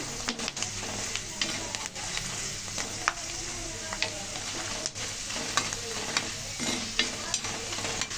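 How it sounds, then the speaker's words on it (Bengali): Potato fritters frying in oil, a constant close sizzle broken by frequent scraping clicks of a spatula stirring the pan. "এখন হচ্ছে যে বুরিন্দা ভেজে নিতেছি"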